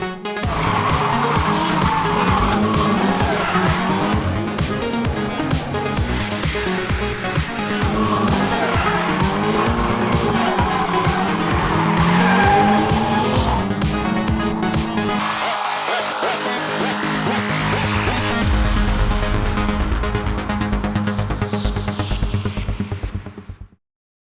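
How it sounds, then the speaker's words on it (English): Cars drifting at a drift school in Australia, tires squealing loudly and continuously over revving engines, with shifting pitch as the cars slide through turns for over twenty seconds. "Drifting is one of the most exciting motorsports on the planet"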